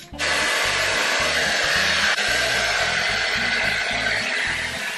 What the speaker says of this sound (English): Now I gotta rough dry my hair to remove some of the moisture.